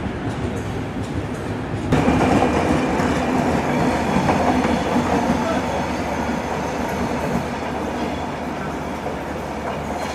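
An intercity express train, just across the Jamuna bridge, runs into Ibrahimabad railway station with a loud, steady rumble and rattle of wheels and carriages heard from on board, growing stronger after the first two seconds.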